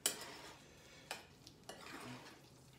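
Guacamole of avocado, coriander and salt being mixed with a utensil in a bowl, giving a few sharp scrapes and clinks spaced about half a second apart over a soft, wet, quiet background.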